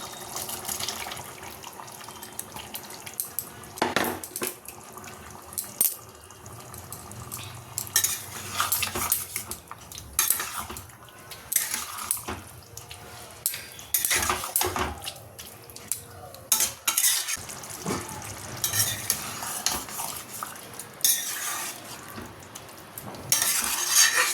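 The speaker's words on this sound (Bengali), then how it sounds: "দেখো গ্রেভিটা সুন্দর ফুটে গেছে, এবার এতে আমি ভেজিসগুলো দিয়ে দেবো।" Broccoli and other vegetables go into a pan of boiling gravy and are stirred. A spoon scrapes and clanks irregularly against the metal pan over a bubbling sizzle, with some watery sloshing, and no one speaks.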